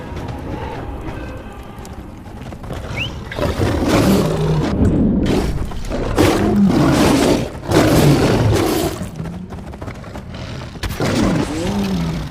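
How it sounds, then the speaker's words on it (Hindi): Several lions roar in the prehistoric video game Far Cry Primal, with repeated loud, close, rumbling roars in bursts over twelve seconds, mixed with rustling movement and footsteps, with no speech. "और भी शेरों की दहाड़ने की आवाज आ रही है"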